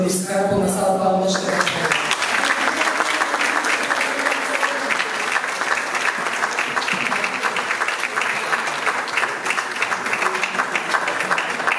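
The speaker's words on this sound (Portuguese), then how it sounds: "com uma salva de palmas" An audience applauds steadily for a guest artist at an event in Peniche, dense clapping that holds loud and even throughout, with a brief voice over it at the very start.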